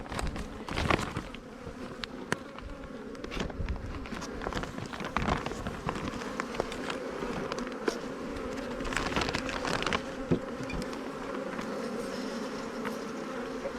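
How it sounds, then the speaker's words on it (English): Honey bees swarm and buzz around an open hive during an inspection, a dense, continuous droning hum close by, broken by scattered taps and clicks of frames being handled. "Try to not squash many bees."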